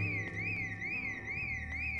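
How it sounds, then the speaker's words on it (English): A burglar alarm in the video game Project Zomboid rings loud and continuous, its electronic tone warbling up and down in a steady repeating sweep, with no voices over it. "everybody's distracted by that burglar alarm"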